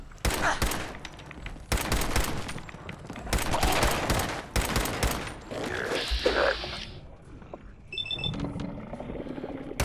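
An improvised pistol fired repeatedly at a feral ghoul in Fallout 4: loud close shots in quick clusters, followed by growling creature noises and a metallic ring near the end.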